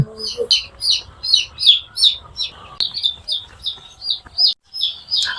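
Six-day-old chicks on a poultry farm chirp rapidly and continuously, a busy chorus of short peeps close by, with a faint low hum in the background.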